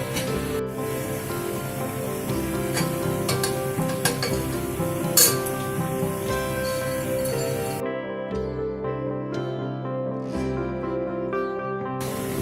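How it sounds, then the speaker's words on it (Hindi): Vegetables and moong dal sautéing in a pan for vegetable dalia khichdi, a steady sizzle with repeated clinks and scrapes of a spoon stirring against the metal, loud and close, briefly quieter near the end. "अभी मेरे वेजिटेबल्स भून चुके हैं, मैं इसमें मूंग डाल दूंगी"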